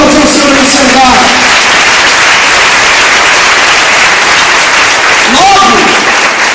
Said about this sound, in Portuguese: Para aplaudir o Senhor nesse lugar